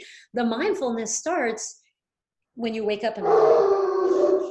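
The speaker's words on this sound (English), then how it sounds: "that's my dog" A dog barks and howls in a home, loud and near: a couple of drawn-out howls under a woman's speech, then a long sustained howl after a brief silence.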